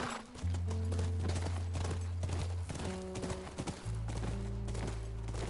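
Steady clip-clopping hooves of a horse in the video game The Last of Us Remastered over a low droning music bed, continuous and fairly loud, with a brief whinny-like tone partway through.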